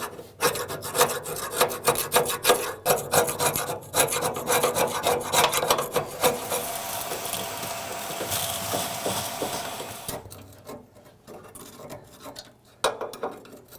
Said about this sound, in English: I'm going to scrape it, suck it all up, and then scrape it some more and make sure it's all clear.